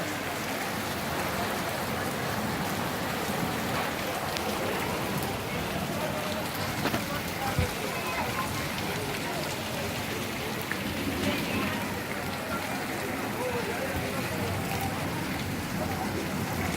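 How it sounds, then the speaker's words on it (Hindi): Sudden rain pours steadily in a city in Sindh, a dense, even hiss of drops hitting surfaces with occasional louder splats, continuous and close throughout with no voices. "अचानक बारिश शुरू गई।"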